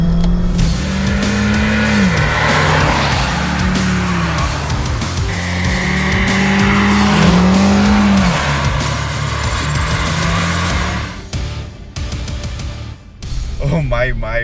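A Škoda Slavia with the 150-horsepower 1.5 TSI Evo engine accelerates hard through several gear changes, its engine note climbing in repeated rising sweeps under continuous road and wind noise, with a short lull near the end.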